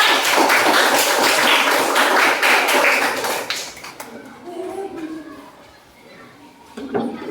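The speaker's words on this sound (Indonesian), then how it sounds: "Tepuk tangan untuk kelompok kanan saya" Students in a classroom clap for a group, a loud burst of dense applause lasting a few seconds that gives way to quieter talking.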